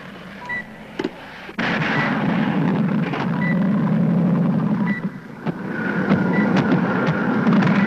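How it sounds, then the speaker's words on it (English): A light civilian aircraft, reportedly in trouble, drones overhead with a steady low engine hum that swells and holds for several seconds, with a few brief clicks at the start. "That sounds like a plane."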